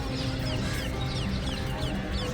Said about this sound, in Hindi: ये चिड़ियों की आवाज़, ये घरों को लौटते पक्षी